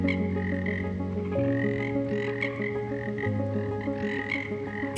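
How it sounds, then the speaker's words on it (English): Large frogs croaking loudly and repeatedly, overlapping deep calls in a steady chorus with no other sound. "They are known for their loud croaking, especially during the breeding season."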